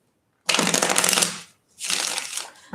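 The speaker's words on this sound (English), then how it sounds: "Which is why I'm shuffling differently than I did for the other signs." Tarot cards riffle-shuffled by hand, two loud close bursts of rapid flapping with a brief pause between them, heard alone.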